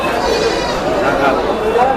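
Goats bleat loudly and close by at a large wholesale goat market in Bangladesh, with overlapping calls mixed into the chatter of a crowd as people talk nearby.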